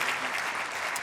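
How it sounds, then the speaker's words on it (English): Sustained applause from an audience at the 2019 FIM MotoGP awards ceremony, a dense, steady wash of clapping hands that holds at an even level throughout. "Let's have a round of applause, please."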